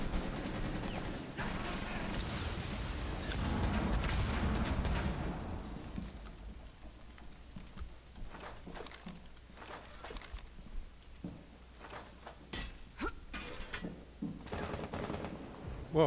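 Gunfire in Rainbow Six Siege during a Hereford Base team deathmatch, with loud sustained shooting in the first seconds, followed by scattered sharp shots and footsteps.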